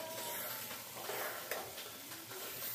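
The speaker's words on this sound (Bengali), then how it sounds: "এবার হচ্ছে ভালোভাবে নেড়ে চেড়ে নেব।" Mutton kosha is stirred in a pan after the meat's released water has cooked off, with a soft steady sizzle and faint scraping strokes, quiet and unbroken, with no voices.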